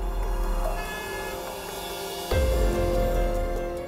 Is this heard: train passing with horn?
yes